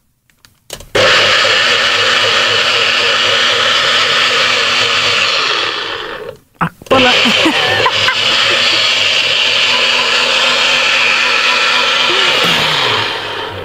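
A blender making a smoothie with spinach roars loudly and harshly, grinding steadily, stopping briefly about halfway through before starting up again and running to the end.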